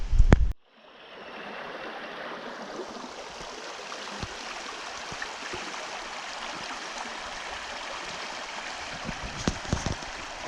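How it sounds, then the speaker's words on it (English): A wide forest stream at Jubilee Creek flows in a steady, even rush of water that fills the whole stretch after a brief loud knock at the very start, with a few faint ticks near the end. "And the stream just goes all the way. It's so nice and wide."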